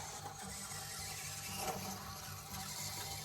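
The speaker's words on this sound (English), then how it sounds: "He's revving up the engine." A radio-controlled monster truck's steady engine drone with a low, buzzy hum, revving slightly partway through, fairly loud and continuous over crowd noise at a monster truck show.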